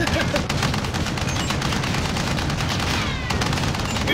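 Dense, continuous video-game gunfire from an armored-truck battle, rapid automatic bursts overlapping at close range with steady booming underneath, filling the whole stretch without letup.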